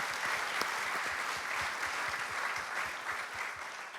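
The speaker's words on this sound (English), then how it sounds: "Let's give them a round of applause." Audience at a school State of the School evening show applauds the reception team, a steady wash of many hands clapping with distinct individual claps, continuous and moderately loud without talk.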